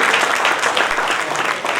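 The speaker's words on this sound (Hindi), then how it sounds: "एक बार जोरदार उनके लिए भी तालियां बजाते हो।" Brief burst of audience applause at a UPSC exam seminar in Bikaner, dense and even clapping filling the whole moment.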